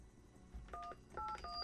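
Telephone keypad dialing during a radio phone-in show: three short dual-tone beeps, each a fraction of a second, in quick succession, with a steady tone joining the last, fairly faint over a low hum.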